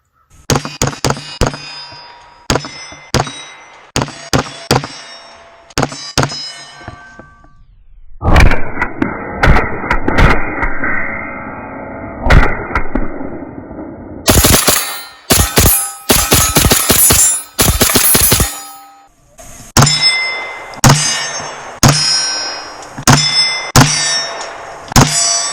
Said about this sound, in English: What I want to do now is just do a little bit more shooting